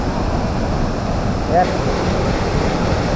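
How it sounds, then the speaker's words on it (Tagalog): Loud, continuous roar of rushing water from a wide waterfall in Surigao del Sur, Philippines, with a very strong current, steady throughout with no pauses. "Yan ang mismo yung bagsak ng tubig dyan, doon galing sa taas, at napakalakas po ng agos ng tubig."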